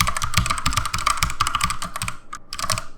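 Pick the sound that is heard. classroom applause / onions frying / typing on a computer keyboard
typing on a computer keyboard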